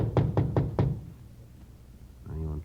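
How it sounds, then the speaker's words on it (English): Four firm knocks rap on an apartment door on the fourth floor of a building in quick, evenly spaced succession, followed by a pause and a faint muffled voice answering from behind the door. "Frank and I went up to the 4th floor and knocked at the door."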